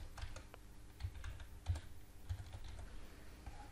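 Someone types text on a computer keyboard, with a short run of quiet, close key taps at an irregular rhythm and no talking.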